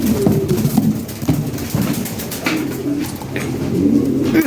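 Fancy pigeons coo close at hand in short overlapping throaty bursts, with faint shuffling and a few sharp knocks among the birds.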